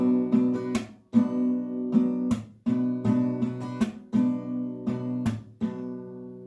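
Acoustic guitar playing the strumming pattern for a song, with rhythmic down and up strums broken by sharp percussive claps, repeating two steady rounds up close with no talking.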